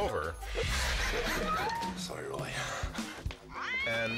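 Rising and falling meows from a cat cut through a busy, noisy scene with voices and rustling close by.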